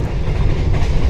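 Kaligung passenger train rolling along the rails, a loud, steady low rumble with continuous wheel and carriage noise close by, no voices.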